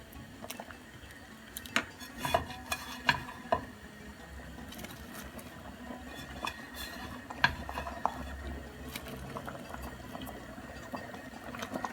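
Moroccan sfenj doughnuts fry in hot oil, giving a steady crackling bubble with scattered sharp pops and ticks throughout, fairly close and moderately loud, with no talking.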